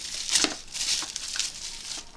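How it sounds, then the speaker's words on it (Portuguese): Sealed cardboard and plastic packaging for a game capture device is torn open by hand in a few quick, close rips and crinkles, with brief pauses between pulls. "Vamos lá, rasgando aqui."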